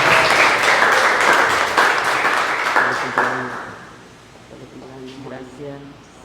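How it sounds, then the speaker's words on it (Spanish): Congregation applause during a Catholic Mass in church, right after a birthday song: a few seconds of dense, loud clapping that thins and fades, giving way to softer sung or spoken voices. "Fuerte el aplauso."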